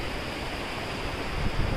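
Dudhari waterfall roaring steadily nearby in a natural outdoor setting, a dense continuous rush of falling water that swells slightly louder toward the end, with no talking.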